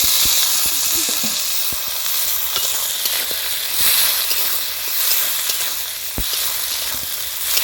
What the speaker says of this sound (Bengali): ফোড়ন, পেঁয়াজ, কাঁচা লঙ্কা খুব ভালো করে ভেজে নিয়েছি, এবার দিচ্ছি মটরশুঁটি।